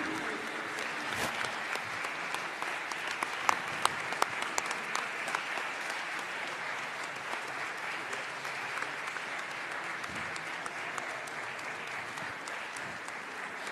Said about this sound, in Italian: Prenda intanto gli applausi.